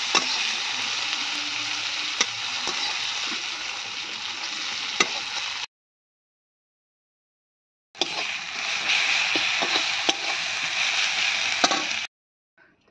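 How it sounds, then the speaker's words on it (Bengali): Onions frying in a pan for a Bengali fish-roe curry give a loud, steady sizzle with stirring scrapes, cut by two brief silent gaps. "পেঁয়াজটা ভালোভাবে ভেজে নেব।"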